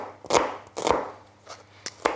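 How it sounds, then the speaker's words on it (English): A knife chops a red onion on a board set on a tea towel, giving four or five crisp, close taps spaced unevenly with quiet gaps between them. "and then chop again at 90 degrees"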